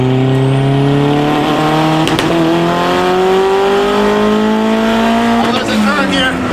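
A Honda car accelerating hard with rolling anti-lag, engine tone climbing steadily with sharp crackles and pops, loud and close from inside the cabin, continuous throughout.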